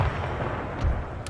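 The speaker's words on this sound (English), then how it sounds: "Currently my artillery can hit them," Cannon artillery firing in the video game Napoleon: Total War, dull low booms arriving in quick succession over a rumbling battlefield background, moderately loud, with no talking.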